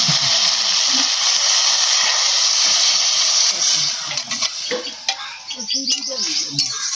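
Water poured into sautéed okra in a pan, a loud steady hiss and sizzle that breaks up after about four seconds into crackling bursts and clinks as it settles.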